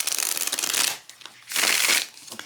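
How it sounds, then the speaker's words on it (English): A stiff, matte deck of playing cards being riffle-shuffled, giving two close, loud bursts of papery rustling and flutter separated by a brief pause. "So it's a bit of a challenge to shuffle."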